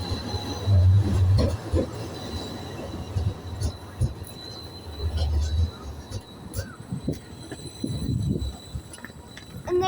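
An Edinburgh tram pulls away from a stop at St Andrew Square, its low rumble and faint wheel squeal rising and falling amid street noise, with no talk over it.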